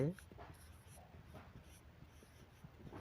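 Faint, quick scratching strokes of a pen writing notes repeat steadily at close range in a very quiet room, with soft background murmur.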